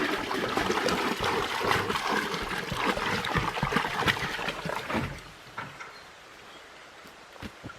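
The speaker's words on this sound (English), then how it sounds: "So we'll put 25 gallons of water back here." Water pours and splashes steadily and fairly loudly onto garden soil for several seconds, then cuts off, leaving near quiet.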